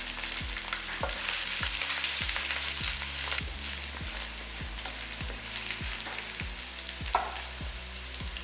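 Cumin, curry leaves and crushed garlic fry in hot oil for an eggplant and drumstick kuzhambu, a steady close sizzle with no talk, joined by a regular run of low thumps.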